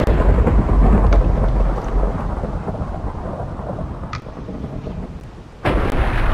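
Thunder from a lightning strike in a video game: a heavy, loud rumbling crash with rain-like hiss, fading over several seconds before a sudden second burst near the end.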